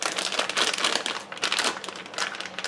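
Plastic piping bag being folded down, a close continuous crinkling and rustling of the plastic.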